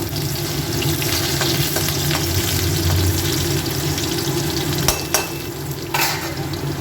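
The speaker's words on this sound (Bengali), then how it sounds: "রসুন দিলাম রসুনটা একটু নেড়ে চেড়ে নেবো" Garlic and a bay leaf sizzle steadily in hot oil for a meat curry, with a low continuous crackle and occasional sharper scrapes of a spoon stirring; no one speaks.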